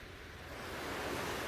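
Ocean waves wash up over sand in a steady, broadband rush that swells slightly louder toward the end, fairly close and with no voices.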